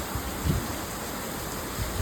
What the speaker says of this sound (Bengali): ভয়ঙ্কর জোরে বৃষ্টি হচ্ছে